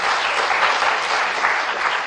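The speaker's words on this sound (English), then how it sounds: "Big round of applause for him, guys." A conference audience breaks into brisk, dense applause for a speaker being introduced, many hands clapping evenly and loudly for a couple of seconds with no voices over it.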